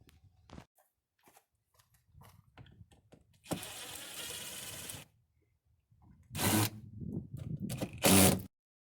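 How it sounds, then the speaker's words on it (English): Removing screws from the board of a 1997 Comfort Camp slide-in truck camper produces sparse clicks and taps, then bursts of loud scraping and whirring, likely a power driver, broken by short pauses. "I'm going to start by removing these screws here and take this board off"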